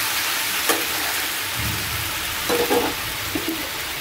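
Potatoes and peas cook in a covered pan with a pinch of sugar, giving a steady, even hiss of frying and a few soft clinks near the middle and end, with no voices.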